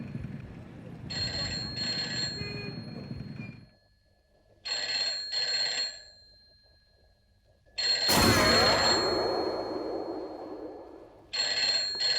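A telephone rings at a police station in bursts of electronic trilling, two rings, a pause, two more, then a louder burst and a final ring starting, fairly close and clear.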